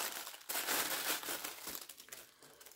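Casio MTP-1302 watch being unwrapped from its plastic packaging: loud, close crinkling and crumpling that runs almost continuously in dense bursts, then tapers into softer rustles.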